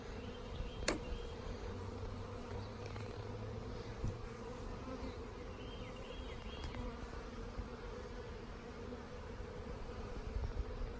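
Honey bees buzz around an open hive in a beekeeping yard, a steady, soft drone of many insects with a few individual bees passing close by.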